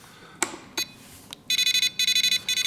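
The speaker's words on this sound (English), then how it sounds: "Oh, the alarm already for the throttle." A Radiolink AT10II 12-channel 2.4 GHz RC transmitter sounds its throttle warning alarm: a few sharp clicks, then a rapid run of loud, evenly pulsed electronic beeps close to the microphone.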